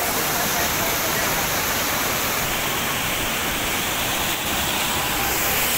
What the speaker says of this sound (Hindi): ये वाटरफॉल है, नीचे पानी जा रहा है